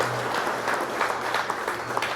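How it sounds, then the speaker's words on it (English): A crowd at an induction ceremony applauds all the way through, dense and fairly loud continuous clapping with no talk over it. "A big round of applause to all of you for doing that."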